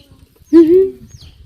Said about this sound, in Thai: ไปไล่จับลูกไก่ ลูกไก่ลูกไก่